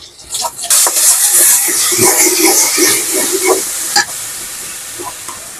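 Ginger and garlic paste dropped into hot soybean oil bursts into a loud, close sizzle that hisses and crackles steadily, broken by a few sharp spatters and stirring sounds, with nobody speaking.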